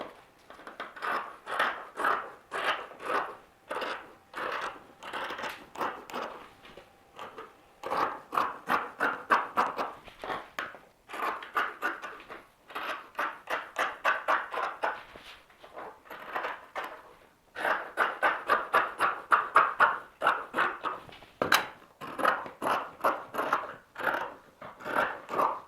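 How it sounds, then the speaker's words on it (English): Scissors snip in quick, rhythmic runs of crisp cuts, pausing briefly between bursts as a paper dress pattern is cut out, close and clear with no voices. "we're going to cut around the whole thing using our trusty scissors"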